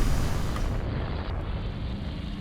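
Torpedoes exploding against a battleship in the naval strategy game Rule the Waves 2, making a loud, continuous rumbling roar of overlapping blasts that keeps going without a break.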